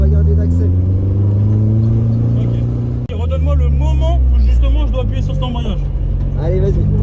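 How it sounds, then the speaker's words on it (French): A Toyota AE86 engine revs up and holds at high rpm during a drift lesson, a loud close droning tone that rises in pitch, dips and climbs again, with instructor and driver talking over it. "il faut faire monter le moteur en régime"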